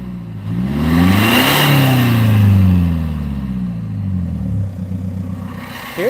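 A Jaguar XJ6 car engine revs up and down with a rising and falling whine, running steadily and close by, with a slight clattery edge.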